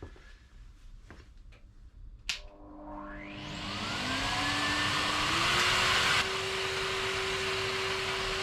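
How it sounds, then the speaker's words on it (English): A Hoover vacuum cleaner switches on after a few faint knocks and spins up to a loud, steady whine that holds to the end, with no voices over it. "Fix the hoover over, that fits nicely in there."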